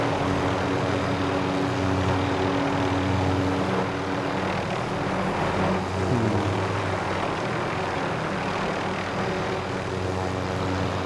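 A helicopter in the video game Call of Duty Warzone gives off a loud, steady rotor and engine drone that fills the whole stretch without a break, with no talking over it.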